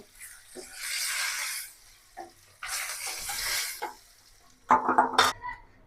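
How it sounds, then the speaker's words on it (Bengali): Sliced onion and green chillies dropped into hot oil left from frying fish, giving bursts of loud sizzling and frying, then clattering stirring and scraping of a spatula in the pan. "এই তেলে আমি পেঁয়াজ কাঁচামরিচ সব কিছু ভেজে নেব"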